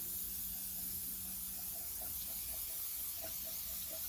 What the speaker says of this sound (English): spray the faces clean